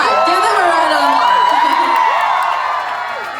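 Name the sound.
crowd applause and cheering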